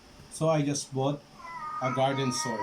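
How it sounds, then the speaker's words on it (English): A domestic cat meows a few times close by, its calls overlapping someone talking indoors. "Sorry for my cat."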